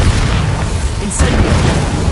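A loud, dense blast from the Bombarda explosion spell in Hogwarts Legacy, with rumbling booms and crackling bursts running through the whole stretch and voices mixed in.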